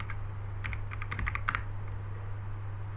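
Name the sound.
typing google.com on a computer keyboard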